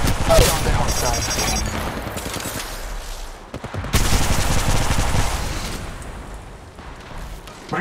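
Rapid gunfire in the online shooter game Apex Legends, sustained bursts of weapon shots with short breaks, loud and busy, mixed with game sound effects.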